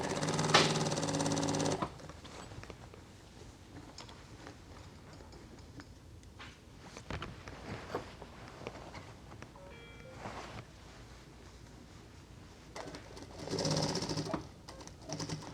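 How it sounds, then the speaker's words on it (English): A sewing machine runs a brief, loud burst while sewing a seam on a dress being turned into a jumpsuit, followed by quiet fabric handling and small clicks, then another short, softer run near the end. "So I'm going to sew about halfway right there."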